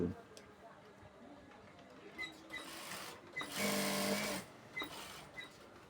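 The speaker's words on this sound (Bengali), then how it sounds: "আর সেলাই তো অবশ্যই ডাবল দেবো।" A sewing machine double-stitches the side seams of palazzo trousers in a short buzzing run partway through, with brief clicks and someone talking before and after.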